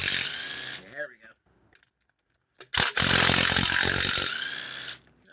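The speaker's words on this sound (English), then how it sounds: "these DeWalt guns, these 20-volt DeWalt guns, 20-volt maxes, man, they just rock" A DeWalt 20-volt Max cordless impact gun runs in a loud, sustained burst of roughly two seconds after brief short bursts and a pause, close by with no talking over it.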